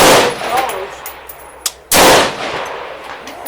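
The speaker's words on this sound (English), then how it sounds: "I was offhand shooting at 200 and 300 yards" Rifle fitted with an SWFA 1-4x24 scope fired offhand at 200 and 300 yards, two loud sharp gunshots about two seconds apart, each with a long trailing outdoor echo, plus a faint metallic ping between them.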